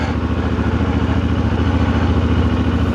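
A CFMOTO 450MT motorcycle engine idles loudly and steadily nearby, its low, even chugging pulse continuing without change.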